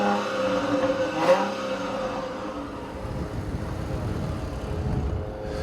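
A 2014 Chrysler 300C's Pentastar engine drones steadily while cruising on a highway, a continuous road-and-engine hum with a slight swell early on, no voices.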